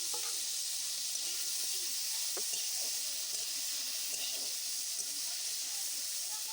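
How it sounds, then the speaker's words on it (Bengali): Prawns fry in hot oil in a wok, giving a steady, even hiss and sizzle that holds throughout at moderate level, with faint scattered crackles and pops over it. "তেলটা গরম হয়ে গেছে। এবারে এর মধ্যে চিংড়ি মাছগুলো দিয়ে দিলাম।"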